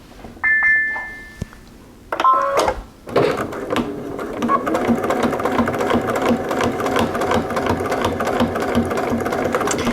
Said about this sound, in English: I'm going to begin stitching in that ditch all the way around